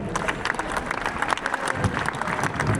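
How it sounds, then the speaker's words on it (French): An audience applauds at the official launch of the Féria d'Arles, a steady, dense patter of many hands clapping at moderate loudness. "est-ce que vous pouvez les applaudir, vraiment."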